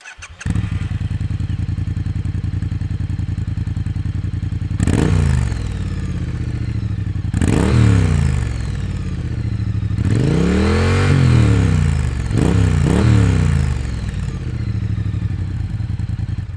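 A Triumph Street Twin motorcycle with stock exhausts idles loudly nearby, with several sharp throttle revs that rise and fall, two coming in quick succession near the end.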